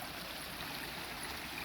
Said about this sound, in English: these running water features like this here in Florida